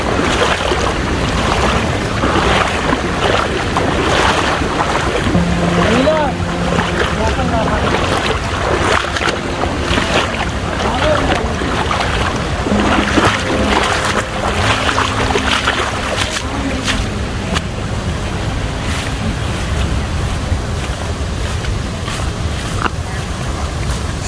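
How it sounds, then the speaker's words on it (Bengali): Chedlang Waterfall pours over rocks deep in forest along the Raikhong canal, a loud, steady broadband roar of rushing water that fills the whole stretch, with possible voices blending into the din. "উপর থেকে পাথরের বুক ছিঁড়ে কিভাবে গর্জনে পানি আশ্রে পড়ছে নিচে"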